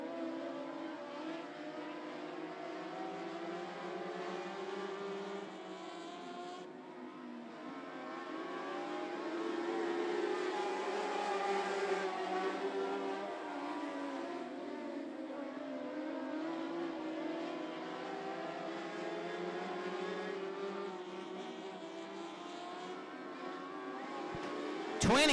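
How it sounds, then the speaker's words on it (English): Race cars lap the I-75 Raceway track in a race, their engines a continuous droning roar that swells and fades as they pass at a distance, with no talk. "B2 of Bray slowing on the high side of the racetrack."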